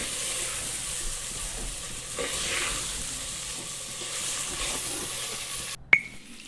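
Okra sizzles steadily in hot oil in a pan, a constant close frying hiss with faint stirring scrapes, ending in a sudden sharp clink near the end.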